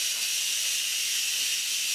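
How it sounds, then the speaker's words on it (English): An Instant Pot pressure cooker vents steam in a quick release after cooking BBQ baby back ribs. The hiss is loud, steady and continuous, with no talking. "So we're gonna go ahead and do a quick release."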